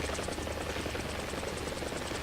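Helicopter sitting on a runway in the video game War Thunder, a loud continuous rotor and engine hum with a rapid rhythmic blade chop pulsing evenly, no voices.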